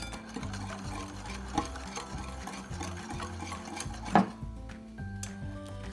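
A whisk stirs hot milk a little at a time into zeppole pastry cream in a pot, making rhythmic scraping and clinking strokes close up with a few sharper knocks.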